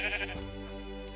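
One short sheep bleat from a Minecraft game, a brief nasal bleat heard near and fairly clear over a faint steady hum.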